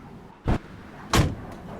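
Two solid, heavy truck-door thumps less than a second apart over a steady low rumbling background.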